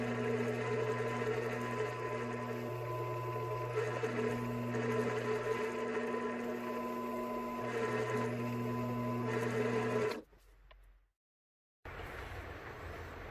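Small drill bit boring holes into a handmade wooden bluegill fishing lure body for lead weights, a steady close whirring motor drone with tonal hum that runs continuously, briefly cuts out near the end, then resumes.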